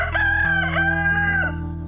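A rooster crows at a rural Gloucestershire barn, one long loud cock-a-doodle-doo near the listener with chickens clucking softly under it.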